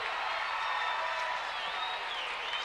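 A crowd at a 1990 high school boys basketball conference final between Wood River and St. Paul roars steadily with cheering and scattered clapping, a dense, continuous wash of noise after a made shot.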